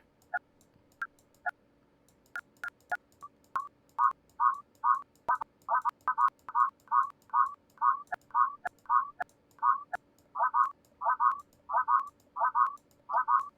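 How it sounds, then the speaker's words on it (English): A repeated croak-like pulsing noise in an analysed recording, a string of short evenly spaced buzzy bursts that speed into a steady train, with scattered sharp clicks over a quiet background. "What is that croak?"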